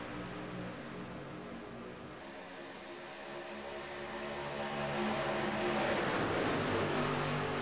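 Engines of race cars in a sim racing game at Daytona International Speedway, a steady droning roar from the pack that swells louder toward the end as the cars accelerate.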